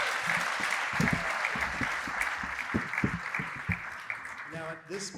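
Sustained audience applause fills a graduation ceremony hall, a dense steady wash of many hands clapping that carries on for several seconds before easing slightly near the end.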